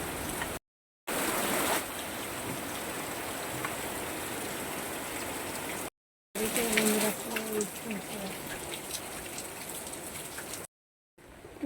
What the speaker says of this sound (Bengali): প্রচুর বৃষ্টি হচ্ছে, ঘরে যেতে পারছি না।